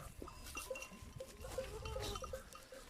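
Goats and young kids in a field, with soft bleats and scattered rustling and clinking close by under a steady outdoor background, no talk.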